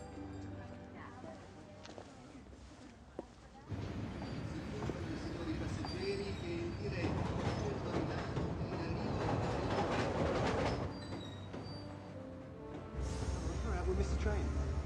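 A train rumbles and rattles along the tracks with rushing noise and occasional clacks, heard from inside at moderate level, with people talking faintly.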